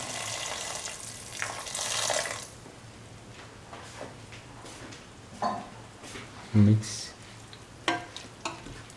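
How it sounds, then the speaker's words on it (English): Water is poured into a pan of cauliflower and scrambled egg stir fry, hitting the hot pan with a burst of sizzling, then quieter frying with scattered clinks and stirring sounds. "Now pour in 150 ml of water."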